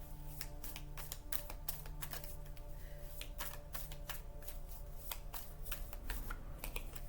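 A deck of tarot cards is shuffled in quick, crisp bursts of riffling and slapping, close and fairly quiet against a steady low hum, with no talking.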